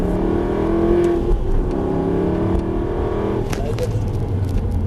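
Aston Martin Vantage V8 on a race track, its engine droning steadily and building under acceleration, close and loud throughout, with a brief burst of higher mechanical noise midway.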